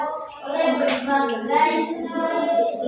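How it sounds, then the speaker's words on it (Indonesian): A classroom of students applauds a classmate's answer, with brisk, continuous clapping mixed with children's voices throughout. "tepuk tangan dulu untuk Andini."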